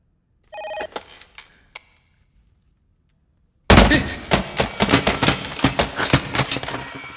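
A few electronic telephone rings sound briefly in a dubbed action movie scene, then after a pause a loud, rapid burst of repeated sharp ringing tones fills the rest.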